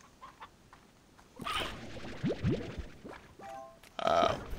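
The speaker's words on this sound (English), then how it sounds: "Possibly another rooster." Game rooster from Slime Rancher clucking in a few short, close bursts, with gobbling, rising squawks and a louder clutch near the end over quiet game ambience.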